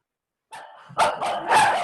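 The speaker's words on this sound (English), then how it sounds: "The dogs are barking." Dogs barking at a home, several short yips and barks in quick succession, fairly close and loud, with no speech.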